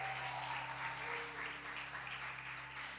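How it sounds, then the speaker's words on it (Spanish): A church congregation at a Spanish-language service applauds softly: a faint, even patter of clapping heard through a steady electrical hum, continuous and distant. "Si le vas a aplaudir, dáselo con gozo."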